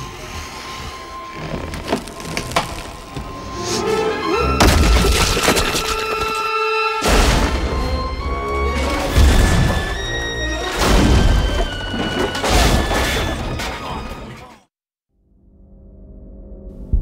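Gory film sound effect of a man's head being blown off, a chaotic mix of cracking, splintering and smashing bursts with a horse-like whinny, repeated in loud waves before cutting to near silence.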